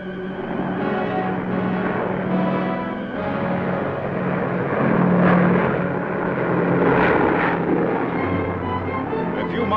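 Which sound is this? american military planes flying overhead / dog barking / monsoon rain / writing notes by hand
american military planes flying overhead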